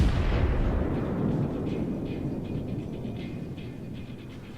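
A World of Warships Montana battleship fires an armor-piercing shell salvo: a loud, deep blast that opens the clip, then a long rumbling decay that rolls on without talk.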